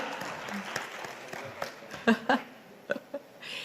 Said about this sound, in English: a big round of applause to Rare Rabbit